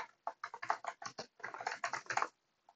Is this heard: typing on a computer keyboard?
yes